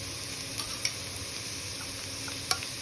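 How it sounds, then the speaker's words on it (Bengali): Prawns and figs fry in a pan, giving a quiet steady sizzle with a few sharp clicks from stirring, heard alone without any talk. "এবার আমি একটু ভাজা ভাজা করব।"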